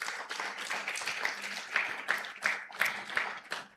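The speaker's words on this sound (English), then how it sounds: "Round of applause for Mrs. Adediji, please." An audience at a Nigerian business conference gives a speaker a round of applause, clapping in uneven pulsing bursts that rise and fall, with a faint voice underneath.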